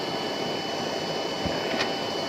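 A square 1.20-ampere blower fan on a used-oil stove with an auto oil feeder runs close by, a steady broadband whoosh and hum with no change in level.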